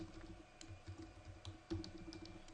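Keys clatter on a computer keyboard in quick, uneven bursts of typing, close and quiet, with no talking.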